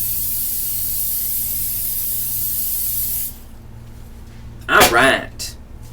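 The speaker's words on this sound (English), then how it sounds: "Spray this down with some baking spray." A continuous hiss of aerosol spray lasts about three seconds, then stops, followed by a brief burst of talking.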